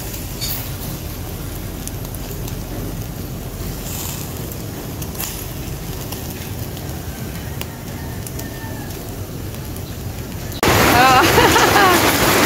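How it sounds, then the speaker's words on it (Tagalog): Heavy rain pouring down during an outdoor barbecue, a dense, steady rushing wash that swells noticeably louder and nearer in the final seconds. "sa lakas ng ulan"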